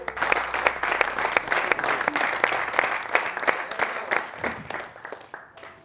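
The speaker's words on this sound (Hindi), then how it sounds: "इनके लिए जोरदार तालियां।" A room full of people claps steadily and enthusiastically for several seconds, the applause thinning out toward the end.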